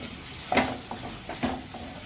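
Half of two medium tomatoes sautéing in a pan over medium flame, a soft close sizzle with a couple of stirring scrapes, quiet and without talk.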